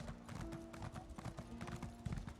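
Horse hooves clip-clop at a quick, steady trot on a default mount in The Elder Scrolls Online, fairly close and distinct over a constant low game hum with other background sounds.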